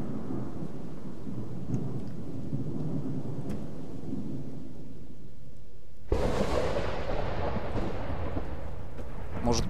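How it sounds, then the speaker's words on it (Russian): Thunderstorm in the video game ArmStalker: a low, continuous rumble of thunder and rain that suddenly swells into a much louder, harsher crash partway through, then keeps roaring steadily. "Может, просто гроза?"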